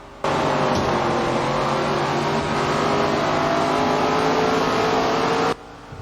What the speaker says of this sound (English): the cars sound nice